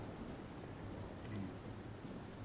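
Steady rainfall in the video game Orcs Must Die! 3, a soft, even wash of drops that continues without a break and stays fairly quiet throughout.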